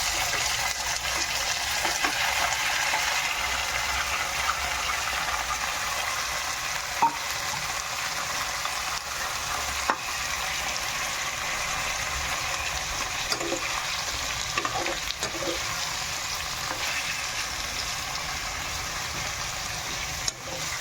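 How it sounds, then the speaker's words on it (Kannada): Marinated chicken frying in a pan for a chicken curry, a continuous loud sizzle and hiss that runs on steadily, with a few soft clicks and stirring bumps scattered through. "ಚೆನ್ನಾಗಿ ಫ್ರೈ ಮಾಡಬೇಕು."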